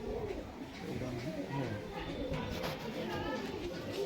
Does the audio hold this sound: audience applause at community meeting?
no